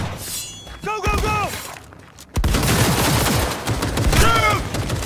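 Gunfire in the video game Cyberpunk 2077: loud bursts of rapid shots with shattering impacts and thuds form a dense, continuous barrage, while voices shout through the chaos.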